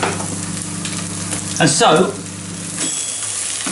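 Eggs sizzle steadily in a hot frying pan while being stirred, with a louder scraping burst of the spatula midway through the frying. A person briefly speaks.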